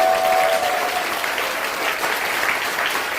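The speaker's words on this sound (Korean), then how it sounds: "박수 한번 쳐주세요." An audience at a parliamentary forum on human rights applauds, a steady, fairly loud wash of clapping from many hands that holds through the whole short stretch without a break.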